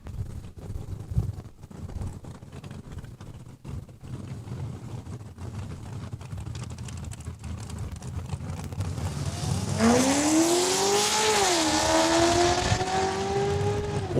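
A Corvette on a drag strip at Saskatchewan International Raceway launches down the quarter mile on a bye run, its engine roaring louder from the midpoint and climbing through rising revs and shifts after a quieter idle and crowd-ambience lead-in.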